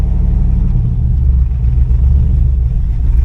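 A cammed Chevrolet Camaro engine runs rough at low RPM, giving a loud, close, continuous low rumble with an uneven, loping pulse. No voices are heard.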